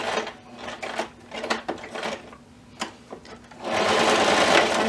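A sewing machine stitches in short bursts while box stitching a strip of Velcro onto a pocket, close stop-start whirring with brief pauses, then a longer steady run at the end.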